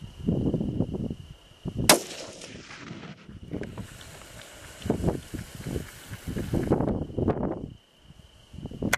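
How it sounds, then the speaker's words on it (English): A .243 rifle fitted with a Steiner military scope fires a single sharp, loud shot while being zeroed outdoors in the Badlands. A long rumbling tail follows, and people talk quietly before and after the shot. "We're zeroing this 243 using this new Steiner military scope."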